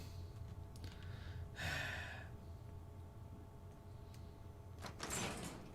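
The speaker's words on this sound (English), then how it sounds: "Open the door." In Fallout 4, a door slides open with a short whooshing mechanical burst, then a second similar burst follows a few seconds later over a low, steady game ambience.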